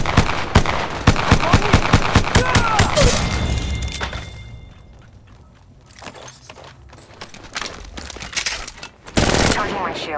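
Gunfire in the mobile battle royale game Apex Legends Mobile: loud, rapid automatic bursts at close range, then a quieter stretch with scattered shots, and a final heavy burst.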